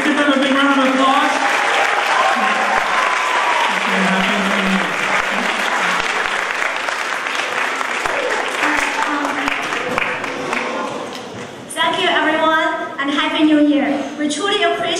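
A school assembly audience at a Lunar New Year celebration gives sustained applause, with many hands clapping steadily for about eleven seconds before it fades and an adult voice starts speaking.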